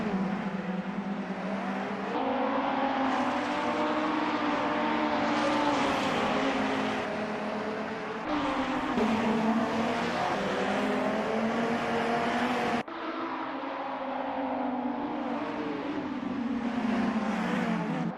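Audi TT RS race cars in a racing video game, a dense pack of engines droning and revving continuously at close range, with pitch shifts as gears change and the cars jostle through a circuit around the Eiffel Tower in Paris.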